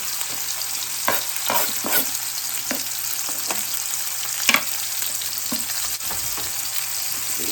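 Beef patties for a copycat Steak 'n Shake Frisco patty melt fry in a pan with a steady, close sizzle, broken by scattered sharp ticks and pops.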